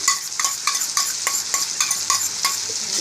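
A chilli paneer sauce mixture is stirred in a pan with a spoon, producing about a dozen evenly spaced scraping strokes against a faint sizzle, close and fairly loud, with no talking.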